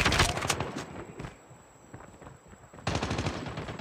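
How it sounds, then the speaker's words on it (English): A deployed sentry gun in a multiplayer shooter lets off rapid automatic bursts, then drops to a quieter pause of about a second and a half before the fire starts again just as loud. "Sentry gun deployed."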